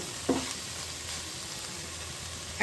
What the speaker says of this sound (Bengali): একবার আমি নাড়া দিয়ে আপনাদেরকে দেখাচ্ছি